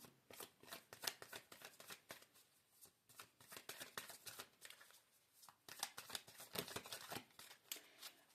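Tarot cards are shuffled by hand in quick riffling bursts with brief pauses between them, crisp and close but quiet, with no speech over them.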